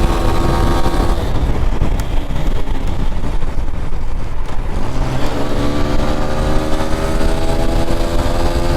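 A Bajaj Pulsar N160 motorcycle engine pulls hard in fourth gear while overtaking, a loud, steady drone that rises in pitch as it accelerates near the microphone, with no talking.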